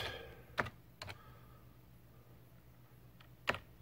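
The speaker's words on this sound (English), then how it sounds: "you would go to Google and you would type in" A handful of sparse, quiet keystrokes on a computer keyboard: two taps close together near the start, then a pause, then two more near the end, over a faint steady room hum.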